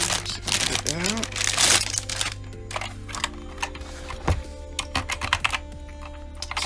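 Clacky typing on an Epomaker SK61 mechanical keyboard, rapid irregular key strikes close up, with some crinkling plastic early on and brief talk.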